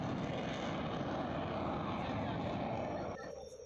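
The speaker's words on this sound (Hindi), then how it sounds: "आसमान में गरजते लड़ाकू विमान" Fighter jets roar overhead at an air show held on an expressway airstrip, a loud, sustained broadband rumble that holds steady and then drops off sharply near the end.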